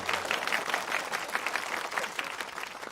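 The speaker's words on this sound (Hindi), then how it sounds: "तालियां।" Audience applause at a Hindi comedy stage performance: dense, steady clapping from a crowd that holds at an even, moderately loud level for about three seconds.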